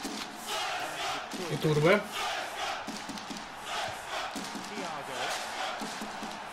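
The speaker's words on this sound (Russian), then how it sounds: "я чаще слышу болельщиков ЦСКА, чем болельщиков Факела" Football fans chant in a stadium crowd in Pro Evolution Soccer 2013, a broad rolling roar with rhythmic chanted bursts and a rising shout, under a commentator's voice speaking briefly.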